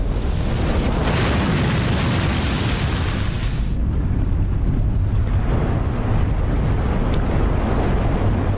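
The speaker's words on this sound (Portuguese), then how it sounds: "seguido de um gigantesco e implacável vagalhão" A huge ocean wave crashes in a loud, broad surge of water and wind noise that fills the first few seconds, then eases into a lower, rumbling wash of sea.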